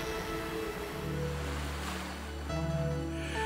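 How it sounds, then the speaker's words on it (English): Strong Atlantic waves wash against the rocky coast of the Azores near Morro de Castelo Branco on Faial, a steady, broad roar of surf with wind, no voices. "Lapped by the strong waves of the Atlantic, relatively few visitors come here."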